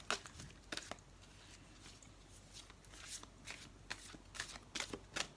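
Tarot cards are shuffled by hand in a string of quick riffles and soft flutters, close and fairly quiet, with short gaps between bursts and no talking.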